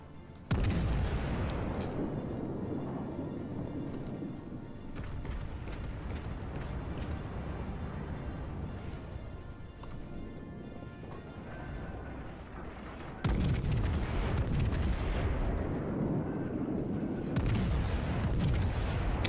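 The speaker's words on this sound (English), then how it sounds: "Concentrate fire on the enemy warship." Deep, rumbling booms of naval artillery fire roll out in World of Warships, with heavy salvos at the start and again near the end. A sustained low roar of battle noise fills the gaps between them.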